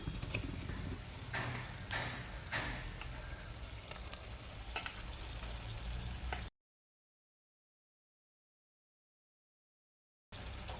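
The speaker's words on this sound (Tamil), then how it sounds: "இஞ்சி பூண்டு பேஸ்ட்டோட அந்த ராஸ் ஸ்மெல் போனதுக்கப்புறமா நம்ம அதில் மட்டன் சேர்த்து வதக்கலாம்" Mutton sizzling as it sautés in ginger garlic paste for a green chilli mutton curry, a steady close frying crackle with stirring scrapes, cut by a few seconds of silence before the sizzle resumes.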